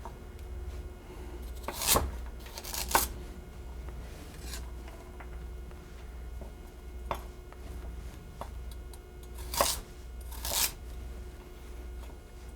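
Knife slicing carrots into small rounds on a cutting board for mulligatawny soup, giving a few sharp chops spaced apart, some close together, near and fairly clear over a low background hum.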